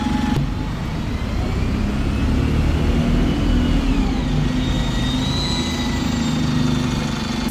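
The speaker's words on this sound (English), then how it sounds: "And there's a bus that's actually leaving." A bus pulling away from a stop in Gloucester, its engine revving and whirring steadily as it accelerates, loud and close throughout with a continuous low drone and rising tonal whine.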